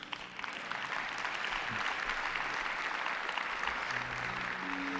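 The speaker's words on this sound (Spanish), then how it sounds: "Un aplauso para Moisés." A church congregation applauds for Moisés in a dense, steady wash of clapping that holds for several seconds at full strength.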